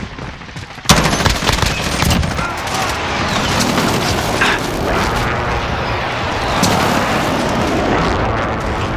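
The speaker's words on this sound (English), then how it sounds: "Enemy precision airstrike!" Enemy precision airstrike in Call of Duty Modern Warfare: a sudden loud blast opens a long, dense barrage of overlapping explosions and rapid gunfire that rumbles on without a break, with a short shouted voice in the mix.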